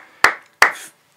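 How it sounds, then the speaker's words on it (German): Two sharp, loud hand claps a fraction of a second apart, close and dry, with silence around them. "Klatschen ist so laut."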